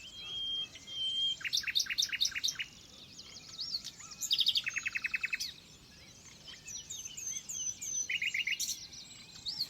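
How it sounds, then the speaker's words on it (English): A nightingale sings loudly and close during the dawn chorus, delivering rapid repeated whistles, trills and sharp chirped phrases in bursts that dominate over fainter birds further off. "This nightingale's so loud you can hardly hear anything else"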